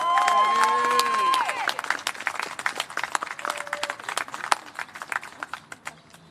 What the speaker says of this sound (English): a big round of applause for Yanderi Merian Arciniega